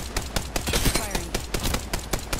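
Gunfire in the video game Apex Legends, a steady rapid stream of automatic shots, loud and close with no talking.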